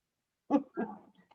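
A dog gives two short, soft barks close by, followed by a faint whimper, in an otherwise quiet room.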